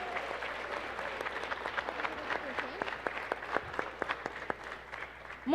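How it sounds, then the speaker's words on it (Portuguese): Audience applause after a public-school physics olympiad demonstration, steady crowd clapping throughout at moderate level, with individual claps standing out. "Uma salva de palmas para nossos padawans!"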